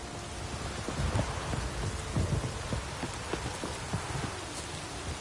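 Steady video-game rain in The Witcher 3: Wild Hunt patters across a surface, dense and even, with a few heavier drops and a low distant rumble underneath.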